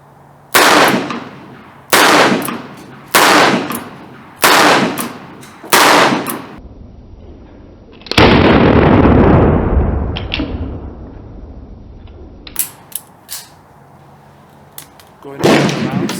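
Sharp, loud gunshots from a Ruger LCR .22 Magnum revolver firing 30-grain rounds, five evenly spaced reports up close, then a longer broadband rush and a few lighter clicks and knocks, followed by one more shot.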